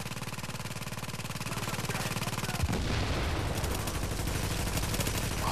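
Dense, sustained gunfire with booming grenade blasts in the video game The Division, a rapid rattling stream that thickens into heavier explosive rumble midway, loud and continuous without talk.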